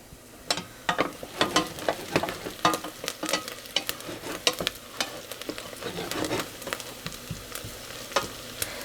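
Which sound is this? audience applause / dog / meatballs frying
meatballs frying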